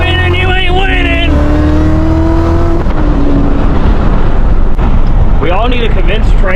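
A 650 WHP Camaro ZL1 engine revs loud and close with rising and falling pitch, then its tires spin with a rough roar. Voices and shouting run through the clip.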